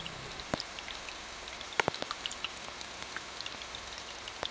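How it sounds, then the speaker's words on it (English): Scattered raindrops tap and plink on a surface, irregular and fairly close, over a soft steady background hiss. "Listen close, can you all hear the sound of raindrops loud and clear?"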